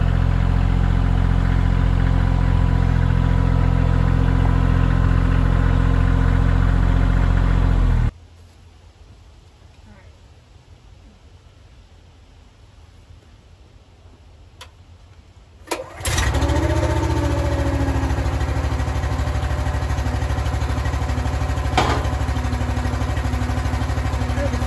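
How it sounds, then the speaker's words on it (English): Firewood log splitter engine running at a loud steady drone, cutting out for about eight seconds of near quiet with faint clicks, then restarting and settling back into a steady run. "get the splitter warmed up, and we're gonna get split done"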